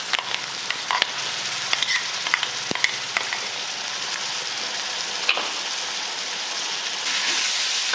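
Ground mint and green chili paste frying in hot oil with asafoetida and curry leaves, giving a loud, continuous crackling sizzle close by with small spatters and utensil taps throughout.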